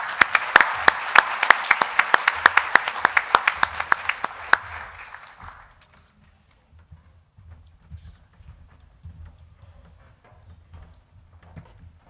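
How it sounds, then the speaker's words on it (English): Audience applause for a keynote speaker at a health technology assessment annual meeting, with sharp individual claps, loud at first, fading out around five seconds into quiet room noise. "give him a warm applause"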